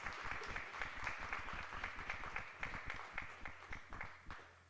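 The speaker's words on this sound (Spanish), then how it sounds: "Un aplauso, por favor." An audience applauds at a book presentation at a book fair. The claps are quiet, sparse and distinct, with individual hand claps standing out in a loose rhythm for several seconds.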